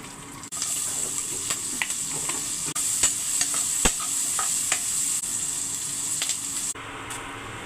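Tempering sizzles steadily in hot oil in a pan for Maggi upma while a utensil scrapes and stirs, with occasional sharp clicks of metal on metal.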